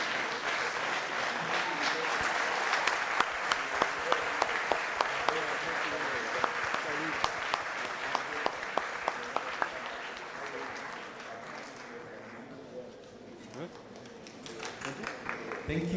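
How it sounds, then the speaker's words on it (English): Audience at a national student entrepreneurship summit giving a standing ovation, dense sustained clapping with sharp individual claps, fading toward the end while a voice speaks over it. "Let's give them a standing ovation as they receive their gift."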